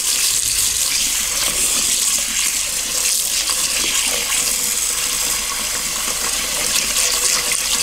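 Tap water runs in a steady, loud gush into a container of rice in a home kitchen, an unbroken splashing rush that continues the whole time with no speech.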